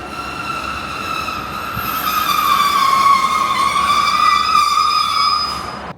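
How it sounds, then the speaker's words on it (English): A Northern Class 155 diesel train runs between Selby and York, giving a steady rumbling roll from inside the carriage with a rising and falling whine throughout and no talk. "Didn't feel much between Selby and York on this Northern Class 155"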